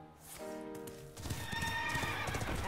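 Horse neigh from the Steed card in the game Hearthstone: a bright whinny, then clip-clopping hooves that run on to the end, loud and close, with no talking.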